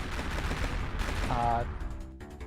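Explosions in the exploding cave level of the video game Arkmaster, a rapid run of loud blasts and crackling bursts layered over game sound, with a tonal chime near the end.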